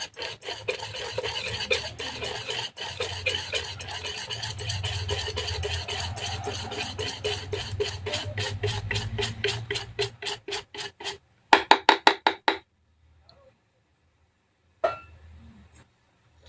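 Rapid, rhythmic scraping of a spoon stirring thick idli batter with soda in a bowl, speeding up before stopping, followed by a few clinks and near silence.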